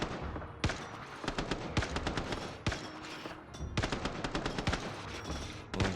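Rapid gunfire in a video game comes in bursts of sharp, close shots that form repeated machine-gun rattles and scattered single cracks, loud and dense throughout.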